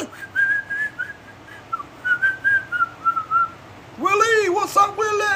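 A person whistles a steady tune with short rising and falling notes, then breaks into brighter, sweeping whistles, calling for a dog; close and clear, with no talk over it.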